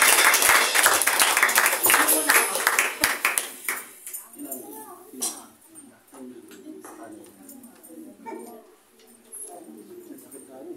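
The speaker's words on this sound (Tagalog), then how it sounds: "Isa pang malakas na palakpak para sa ating Panginoon." Congregation applause in a church service in San Mateo, Rizal, loud and dense at first, then thinning into scattered claps over several seconds as voices and room noise take over.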